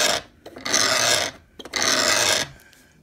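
Two long, loud rasping strokes of a metal file drawn across a jewellery bezel edge resting on a flat block, with a short pause between them.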